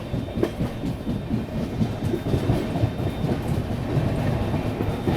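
Passenger train rolling through Unnao junction on the Azamgarh–LTT Mumbai Superfast, steady rumble with rhythmic wheel clatter over rail joints, close and continuous, no talking.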